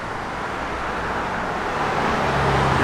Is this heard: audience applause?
no